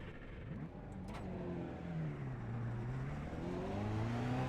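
A Chevrolet race car engine in iRacing drones close and steady, its pitch climbing and dipping as the car accelerates and eases through a corner.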